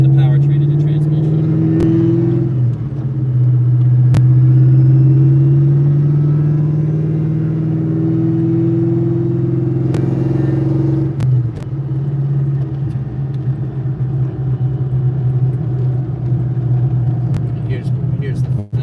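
Ford Mustang Terminator Cobra engine pulls steadily while driving, a loud continuous low drone that shifts pitch as it accelerates and eases, with a brief shift around the middle; people talk over the engine throughout.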